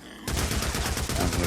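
Gunfire against a massive zombie horde in Days Gone, the 300-strong Mt Bailey horde, on PS5: rapid, loud automatic shots erupting suddenly after a short quiet lead-in and continuing as a dense volley.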